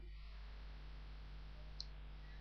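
A single sharp mouse click on a save button, heard once near the middle, faint and alone against a steady low hum.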